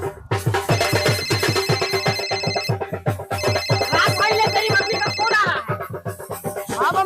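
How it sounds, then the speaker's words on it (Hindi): A phone call is placed on a wedding day, and a musical mobile ringtone plays loudly and continuously with a steady beat for about seven seconds, with no talking over it. "दीदी फोन मिलाइए, राज के पास देखिए पहुंचा कि नहीं बारात लेकर"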